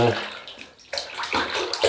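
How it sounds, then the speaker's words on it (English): Hot tap water runs steadily to wet a shaving brush for lathering shaving soap, a close, continuous splashing stream that briefly dips before surging again. "So we'll wet this brush, this is hot water"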